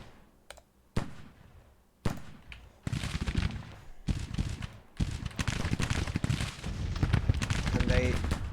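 Musket gunfire in the Civil War strategy game Grand Tactician, sharp shots at first then building into continuous rolling volleys that grow denser and louder, with a voice talking over the battle.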